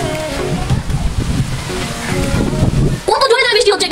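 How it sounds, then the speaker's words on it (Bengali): Heavy rain lashed by strong wind outdoors, a loud, rough, rumbling roar with gusty surges throughout, and people talking over it near the end. "কত জোরে বৃষ্টি হচ্ছে"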